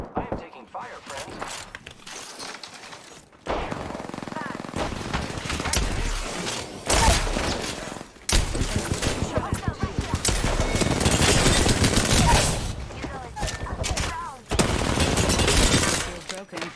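Rapid video game gunfire, loud sustained bursts of automatic shots with brief pauses between volleys, close and dense, with a voice speaking over parts of it.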